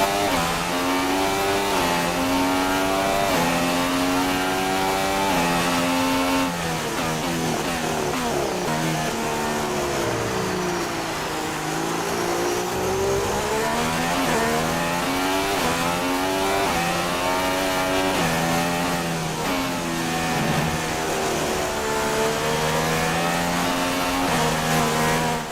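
Formula 1 car engine in the F1 2016 video game, revving continuously and loudly as the car fights for grip, the pitch rising and falling with repeated throttle changes and shifts throughout.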